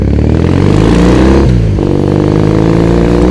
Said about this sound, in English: These are slip-ons from a guy in LA called Gasser Customs. Really throaty, beautiful sounding pipes.